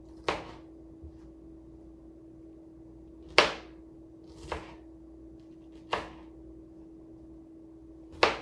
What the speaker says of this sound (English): I'm going to take my pineapple and slice that into smaller bite-sized pieces as well